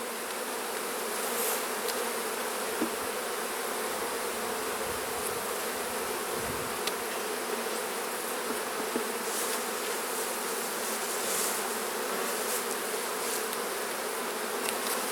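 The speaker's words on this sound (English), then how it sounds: "There's a lot of bees in here" Dense, steady buzzing of a large colony of honeybees in an opened, very full hive during a split, a continuous close hum with no voices.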